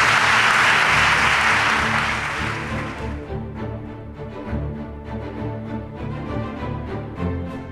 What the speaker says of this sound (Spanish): aplauso fuerte a vuestro primo, por favor